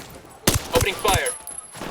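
Burst of gunfire at a gun turret in the tactical shooter Ghost Recon Wildlands, three loud close shots in quick succession followed by a fading ring.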